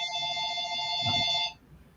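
A telephone rings with an incoming call, one steady electronic ringing burst lasting about a second and a half, loud and close, then cutting off to quiet.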